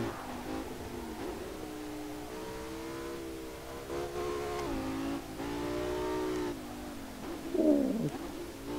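Revving V10 race car engine in Assetto Corsa, driven on a mountain touge road, with rising and falling harmonic tones as it climbs through gears and a brief sharp rev near the end during a missed shift.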